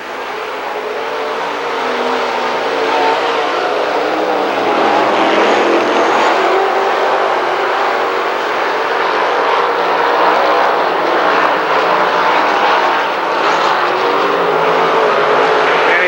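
Late model race cars roaring around Lernerville Speedway, a loud, dense and continuous engine drone from a pack at speed, with no talk over it.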